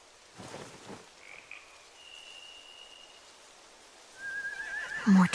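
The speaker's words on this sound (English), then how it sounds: "They have horses." Horses whinny and snort in a video game scene from The Walking Dead, faint calls drifting in over quiet ambient background, with a louder close snort at the end.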